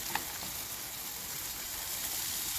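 Pumpkin seeds from jack-o'-lanterns boiling in a pot of water, a steady bubbling hiss that holds evenly throughout with no talk.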